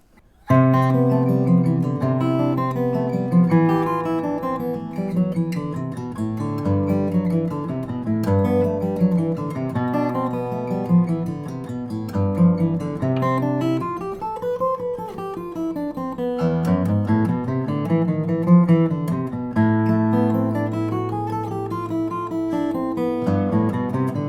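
Solo classical guitar plays a flowing study, continuous plucked notes in rising and falling arpeggio patterns without a break, close and clear.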